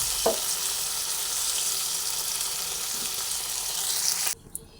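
Okra (bhindi) fries in hot oil with a continuous, close, crackling sizzle that runs unbroken for several seconds, then abruptly drops away to near quiet at the end.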